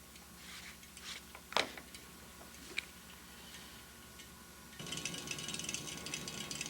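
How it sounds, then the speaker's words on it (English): A sewing machine taking lock stitches in place at the end of a bar tack on a shirt, faint mechanical clicking and ticking with one sharper knock, then a steadier louder whirring run near the end. "turn your stitch length dial to 0 and take a couple of lock stitches in place"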